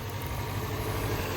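A Subaru Forester XT engine idles with a slight misfire, giving a steady, close low rumble with no voices over it.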